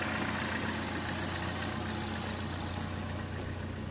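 A 1.4 liter four-cylinder turbo engine in a 2015 Chevrolet Cruze LT idles steadily, a close, even hum with a faint rhythmic pulse and no changes in pitch.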